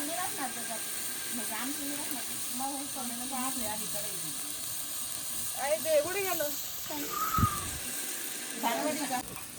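Vegetables frying in plenty of oil over a wood-fired stove, a steady hiss and sizzle running throughout while people talk over it.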